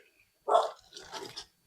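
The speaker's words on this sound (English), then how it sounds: "there's my dog" A dog in a home kitchen gives a short burst of barks, a loud one followed by a rougher cluster, fairly close and alone, with quiet in between.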